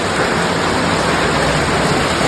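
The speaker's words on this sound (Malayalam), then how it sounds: "നമ്മുടെ വീട്ടിലത്തെ മഴയാണ് ഇത് കാണാൻ പോകുന്നത്" Dense, steady rush of heavy morning rain at a house in Kerala, loud and constant with no breaks.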